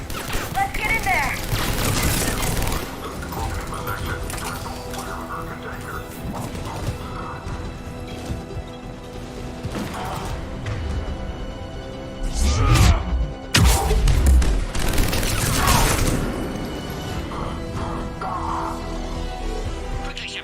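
Gunfire in a Mass Effect 3 firefight at a checkpoint, with sharp crashing bursts and impacts rising to a loud cluster near the middle, under game music and occasional radio voices.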